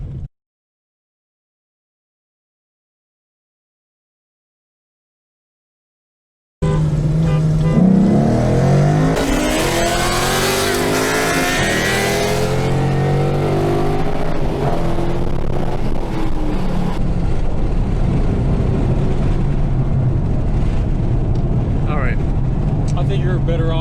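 Sudden onset of roaring engines as a 2014 Mustang GT and a 2012 Yamaha R6 accelerate hard in a roll race, with rising, sweeping revs through gear changes, loud and close, following several seconds of near silence.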